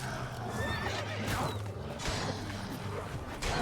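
In The Witcher 3, the horse Roach gives a loud whinnying neigh with hoof clatter and game ambience beneath, and no one speaks.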